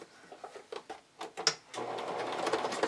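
A sewing machine stitches bias tape onto a camisole, starting with a few short taps and then running in a steady, close-up whir for the last second or so.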